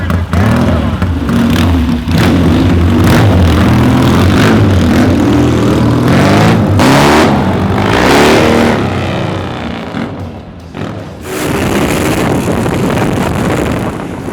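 Vintage 1960s and 70s Triumph motorcycles ridden through traffic, loud engine drone buried under heavy wind buffeting on the microphone, with surges and a brief dip as the bikes move along.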